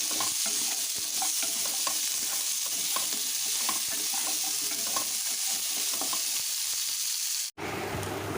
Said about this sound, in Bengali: ভালো করে নাড়াচাড়া করে আমড়াগুলো কিছুক্ষণ আমি ভেজে নেবো।